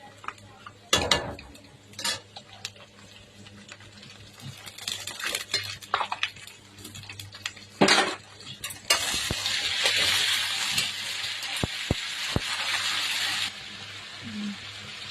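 Ginger-garlic paste hits browned onions in a hot pan, with close stirring clatter and utensil knocks followed by a loud, steady sizzle that stops abruptly.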